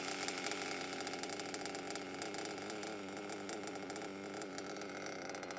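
A nitro engine idles very low during carburetor tuning, barely running, with a continuous buzzing drone that holds steady at close range throughout.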